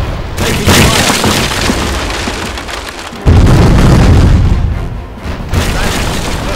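Cannon fire striking a wooden ship in the sailing-era naval game East India Company: loud, dense booming impacts with splintering crashes, a heavy new blast at about three seconds, fading then swelling again.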